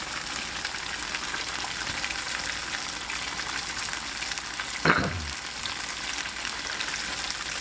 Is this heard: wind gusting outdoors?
no